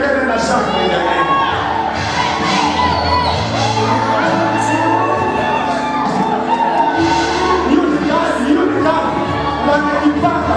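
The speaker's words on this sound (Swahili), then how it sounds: "Na kama sisikii vigelegele na shangwe jamani" Wedding guests cheer, shout and whoop together in a loud, continuous crowd roar, with mixed voices rising and falling throughout.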